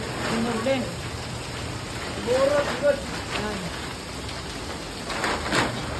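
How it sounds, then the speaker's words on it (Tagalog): Heavy rain hisses steadily across the whole stretch, with faint voices murmuring underneath. "Wala talagang tigil ang ulan guys."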